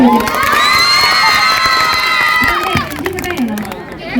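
A concert crowd of girls cheers and shrieks at a live ganamela music show, loud high-pitched collective screaming and clapping that swells near the start and holds steady before easing toward the end.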